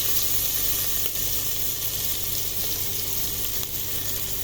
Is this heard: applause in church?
no